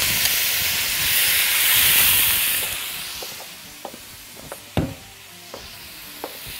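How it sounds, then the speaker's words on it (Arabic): Minced garlic sizzles and hisses loudly in a hot frying pan, the steamy fizz easing after a few seconds while a utensil clinks and scrapes against the pan as it is stirred. "معلقة من التوم المفروم واقلب كده كويس قوي"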